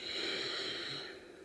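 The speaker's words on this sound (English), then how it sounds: "exhale through the nose as well with a constriction in your throat" A single long, hissing ujjayi breath exhaled through the nose with a constricted throat, soft and close, rushing like ocean waves before fading out.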